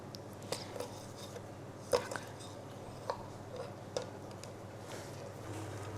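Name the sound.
knife cutting dried fruit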